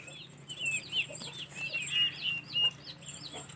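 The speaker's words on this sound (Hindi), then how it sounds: "उन्होंने जो काफ़ी तादाद में मुर्गे भी रखे हुए हैं देसी" Desi chickens on a village poultry farm give repeated short clucks and chirpy calls at moderate distance, with a steady low hum underneath and no talking.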